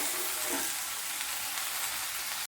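Two medium tomatoes frying in a pan with softened onions for cauliflower masala curry give a continuous, close, dense sizzle with no voices, cutting off abruptly at the end.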